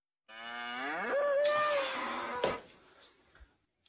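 A bull in a village gives one long, drawn-out moo that rises and holds before trailing off, fairly close, followed by a few faint knocks and rustles.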